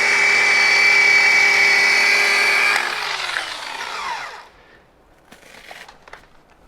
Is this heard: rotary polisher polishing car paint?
yes